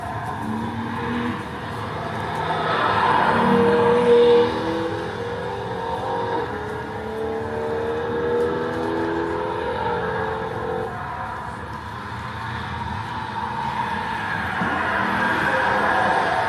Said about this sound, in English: If you listen to the shifts, you can hear the very quick shift of the manual automatic or automatic manual.